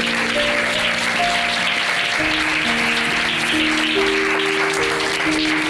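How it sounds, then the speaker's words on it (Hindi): Church congregation clapping loudly and steadily for several seconds during a pastor's sermon, a dense continuous wash of applause with sustained musical keyboard tones underneath. "आए जोरदार तालियां बजाएंगे"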